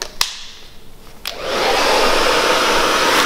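A hair dryer with a diffuser attachment switches on after a couple of clicks and blows steadily with a loud, broad whoosh.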